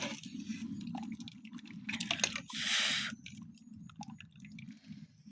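Roselle juice poured and strained through a sieve, soft liquid splashing and dripping with one longer trickling pour, quiet and close.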